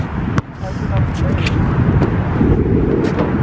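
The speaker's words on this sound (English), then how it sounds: "It's a little windy." Gusty wind rumbles and buffets against the microphone, with a few sharp knocks and bits of outdoor noise underneath.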